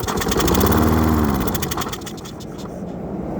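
A free lawn mower with a fuel problem starts up and roars loudly, close by, its engine note rising then settling into a steady running drone.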